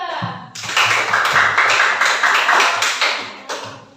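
A classroom of students breaks into applause for a presenting group, a close, dense clatter of clapping that starts abruptly after a brief lead-in and carries on steadily with light voices mixed in.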